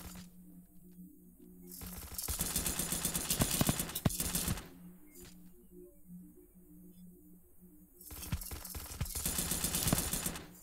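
Automatic gunfire in a first-person shooter game, two long rattling bursts of rapid shots separated by a quieter stretch of background music.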